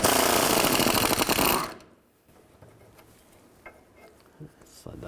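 An air impact tool with an 18mm socket spins a rear sway bar link nut off a 2000-2013 GMC Yukon, a loud rapid hammering burst lasting under two seconds, followed by quiet clinks and small handling noises.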